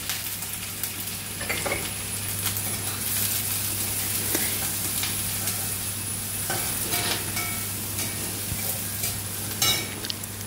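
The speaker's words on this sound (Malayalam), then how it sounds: "സവാള ചെറുതായിട്ട് അരിഞ്ഞത് ഇട്ടു, നന്നായിട്ടൊന്ന് ഇളക്കാം." Finely chopped onion fries in a pan for a Kerala sundakkai thoran, with a steady sizzle under repeated scraping strokes of a spoon, close and continuous.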